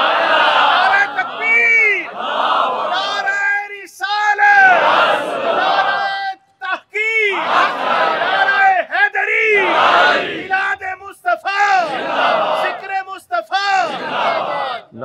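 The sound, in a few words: crowd chanting religious slogans at Milad gathering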